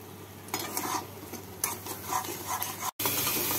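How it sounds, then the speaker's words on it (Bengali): Tomato paste with salt, turmeric and Kashmiri red chili powder frying in a pan for a tangra fish curry, a utensil scraping and stirring in repeated strokes over a steady close sizzle, with a brief dropout near the end. "এবার মশলাটাকে ভালো করে কষিয়ে নেব।"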